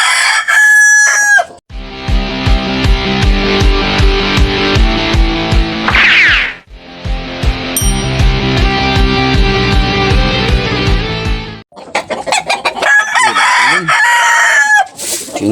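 Chickens and roosters on a farm crow loudly and repeatedly, with clucking throughout, forming a dense, continuous barnyard chorus close by, with a few brief pauses between bursts.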